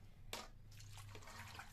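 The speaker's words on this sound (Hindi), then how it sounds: "अब मैं इसमें डाल दूँगी पानी" Water splashes and pours into a pan of cooked masala, a soft sloshing and trickling over a couple of seconds with no talking.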